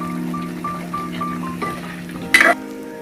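Bitter gourd pieces fry in a pan while being stirred, giving a steady close sizzle with soft scraping strokes, then a sharp metallic clink of a utensil near the end, with no talk.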